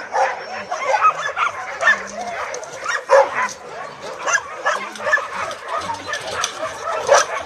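Many shelter dogs bark, yip and whimper at once, a restless chorus of overlapping barks close by.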